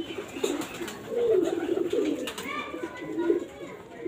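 A pigeon coos in a coop, giving several soft, low, rolling calls, close and moderately loud, with faint voices in the background.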